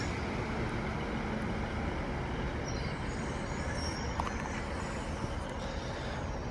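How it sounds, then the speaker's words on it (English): British Rail Class 195 diesel train arriving at Rochdale station, a steady broadband rumble and rolling rail noise heard from the platform, with a faint brief squeal near the end and no talking. "And train now arriving in is a 195 going to Leeds."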